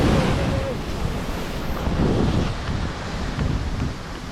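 Sea waves break against the shore beside the last houses near the sea, a loud continuous rushing surge mixed with heavy wind buffeting.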